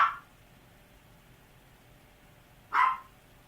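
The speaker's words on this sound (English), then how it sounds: "My dog is putting his 2 cents in." A pet dog lets out two sharp, separate barks nearby, one at the very start and another near the end, with quiet room tone between.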